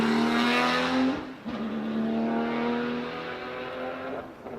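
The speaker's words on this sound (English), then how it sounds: "great sounds from that Porsche. They just make great noises out the tailpipes." A Porsche race car engine revs hard and climbs through the gears at the Pikes Peak hill climb, loud and close, with a brief dip at a gear change before pulling away.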